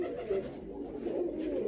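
A pure Malwai black pigeon coos close by in soft, low, rolling calls repeated throughout the short stretch, clear and near.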